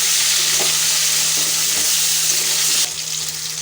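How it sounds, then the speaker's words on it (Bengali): Potatoes frying in oil in a pan with cumin seeds, a steady close bright sizzle running throughout, briefly stirred, with the sizzle dropping a little toward the end. "আলুগুলো দিয়ে কিছুক্ষণ একটু ভেজে নেবো"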